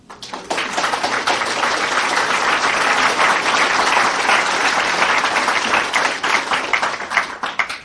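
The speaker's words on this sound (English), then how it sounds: "And you applaud, and so you should" A large lecture audience breaks into sustained applause, steady dense clapping that swells in quickly and holds loud for several seconds before beginning to thin toward the end.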